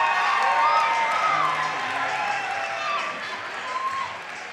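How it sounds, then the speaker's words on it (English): A large crowd at a cage-fighting event cheers and applauds loudly, a steady roar of clapping and shouting that eases slightly toward the end. "Give these fighters a round of applause"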